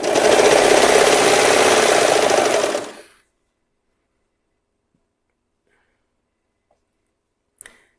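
A sewing machine stitches a seam joining fabric pieces of a pair of underwear, a loud, fast, even whirr for about three seconds, then stopping into silence with a faint click near the end.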